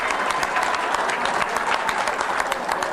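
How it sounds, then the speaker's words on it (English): A crowd applauds a volunteer board of directors at the United Cerebral Palsy Great Chefs Tasting & Auction 2023, producing dense, steady clapping at even loudness for about three seconds with no talk over it. "if you could give them a round of your applause."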